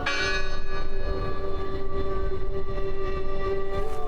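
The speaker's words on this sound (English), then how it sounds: "The bell's still ringing." A church bell rings steadily in the horror adventure game Draugen, its resonant tone sustained and loud over a low ambient rumble, with the hum lingering throughout.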